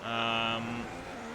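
Formula 1 car engine in the F1 2017 racing game, a brief high tonal whine from a car accelerating back to racing speed, fading after a moment, with a voice speaking over it.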